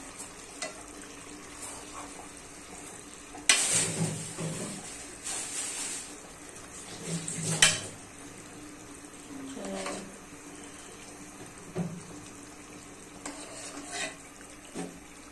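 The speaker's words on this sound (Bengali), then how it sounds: "এই যে মাছটাকে একটু উল্টিয়ে দিচ্ছি।" Bata fish frying in a pan are turned over, a few sharp scraping clatters of the spatula over a soft steady sizzle, with quieter pauses between flips and no talking.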